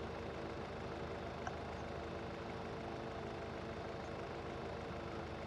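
A John Deere tractor engine idles in a farming video game, a steady, even mechanical drone with a constant low hum, unchanging throughout with no other notable sounds.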